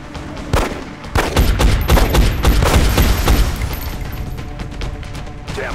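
Gunfire from the turn-based strategy game XCOM: Enemy Unknown aimed at Sectoid aliens: a dense fusillade of loud shots and booming impacts, with bursts in quick succession over several seconds and a lingering crashing tail.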